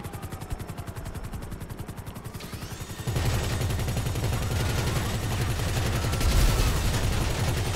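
Gunfire in the video game GTA 5 Online comes first as a fast, rhythmic stream of shots. It then swells into a denser, louder roar of continuous firing that stays close and dominant throughout.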